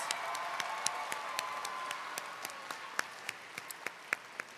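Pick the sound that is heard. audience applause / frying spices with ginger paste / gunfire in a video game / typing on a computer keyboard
audience applause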